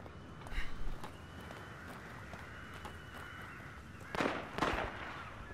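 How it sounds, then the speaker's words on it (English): Gunfire rings out in an Xbox One co-op video game. A few scattered sharp bangs are followed by two louder, closer shots near the end, over a low background hiss. "Gunshots."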